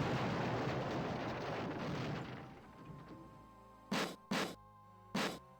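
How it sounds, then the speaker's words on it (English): A heavy explosion behind a sealed bulkhead door in the video game Space Quest 6, a long roaring rumble that fades out, followed by three sharp loud bangs near the end. "you hear and feel an explosion which seems to have come from behind the door"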